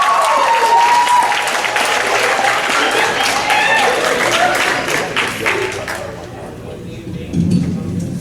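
Audience applause and some cheering for a poet being introduced at a school write club poetry event, steady and loud for about six seconds before tapering off into quieter room noise.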